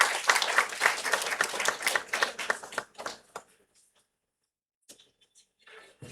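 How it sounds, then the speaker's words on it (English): An audience at a national mathematics workshop's valedictory program applauds warmly, a dense burst of clapping that thins out and stops after about three seconds, followed by near silence with a few faint scattered sounds. "Give a warm round of applause to sir."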